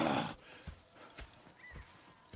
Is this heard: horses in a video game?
yes